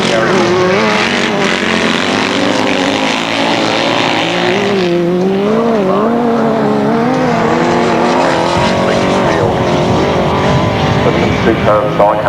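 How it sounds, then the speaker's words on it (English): 1000cc sidecar outfits racing on a grasstrack, engines roaring loud and continuous with rising and falling revs as machines pass close, a commentator talking over the noise throughout. "Superb sidecar engine here this afternoon"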